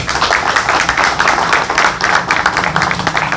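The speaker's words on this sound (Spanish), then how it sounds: "Un aplauso para ustedes." Conference audience in the Dominican Republic applauding together, a steady dense patter of clapping that fills the whole stretch at an even, loud level without pause.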